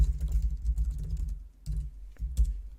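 Someone types a search query on a computer keyboard in a short run of soft, close key taps, dense at first, then a brief pause and a few final keystrokes.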